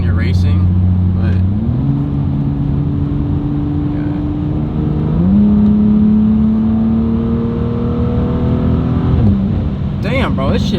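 A BMW 435i with an xHP Stage 3 transmission tune in Sport Plus mode accelerates hard, its engine drone climbing steadily through each gear, with quick shifts dropping the pitch before it pulls up again, loud and close.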